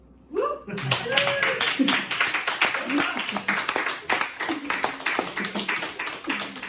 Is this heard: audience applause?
yes